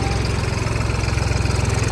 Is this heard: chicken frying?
no